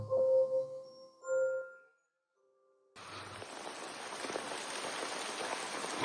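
Rain falls steadily in a drama scene, a dense hiss of downpour that starts abruptly after a brief musical passage and quiet gap, continuing evenly to the end.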